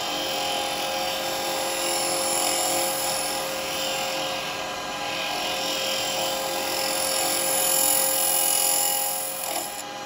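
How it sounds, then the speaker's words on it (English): A wood lathe spins a duck egg cup while a 15mm round negative scraper cleans the surface, giving a steady high whine with a hissing scrape, continuous and close. "I prefer to just use a 15mm round negative scraper, a negative cutter, I mean, as a scraper."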